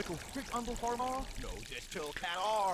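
Water gushes out of the walls in the ghost-haunting game Ghost Master, a steady pouring rush heard beneath a voice talking over it.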